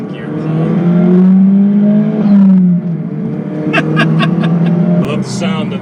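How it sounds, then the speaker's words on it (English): A 2008 Pontiac Solstice GXP pulls hard in second gear with a rising, loud engine note. The note drops sharply, then choppy bursts and a brief hissing release follow. "I love the sound of the blow off."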